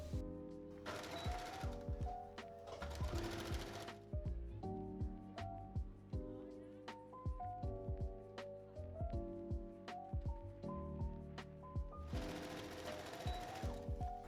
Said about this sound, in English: we can go ahead and sew around the neckline again with our regular straight stitch